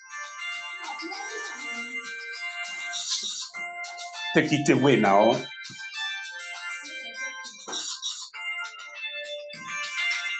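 A phone's electronic ringtone chimes in a short burst partway through, with a person talking before and after it.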